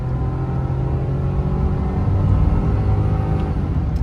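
Ford F-150 with the 2.7 EcoBoost engine accelerating hard under maximum turbo boost, a steady loud engine drone and rumble heard from inside the cab throughout, with no talk.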